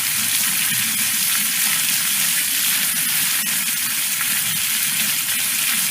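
Water from a hose running steadily over a horse's leg on a ranch, a continuous close hissing gush with a sizzling texture that holds level throughout with no talk.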